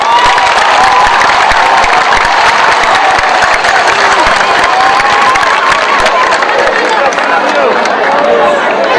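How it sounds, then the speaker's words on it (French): Large outdoor crowd at a sports complex inauguration applauding and cheering, a loud dense roar of clapping, shouts and chatter that continues unbroken throughout, with voices mixed in. "on montre ça une autre fois avec un gros applaudissement"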